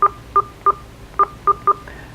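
Keypad tones from a Telus XP5 phone as a number is entered: six short, evenly spaced beeps in two groups of three, clear and close, with a fainter tone trailing at the end.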